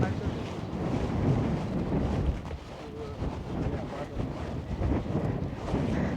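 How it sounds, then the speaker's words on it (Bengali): Strong wind sweeps across a desert farm in Al Qassim, Saudi Arabia, a loud, steady rumbling roar that buffets the microphone for the whole stretch, dipping briefly midway before surging again. "চারিদিকে প্রচুর পরিমাণের বাতাস এবং পাখির নয়েজ"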